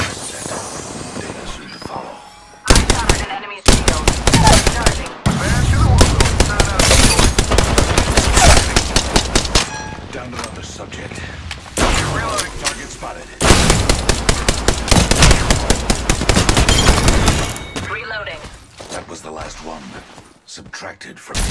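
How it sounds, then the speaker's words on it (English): Gunfire aimed at the player in Apex Legends comes in long, loud, rapid automatic bursts separated by short pauses, with talk heard between the volleys. "Getting shot at."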